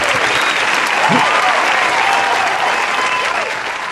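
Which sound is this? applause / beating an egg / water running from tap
applause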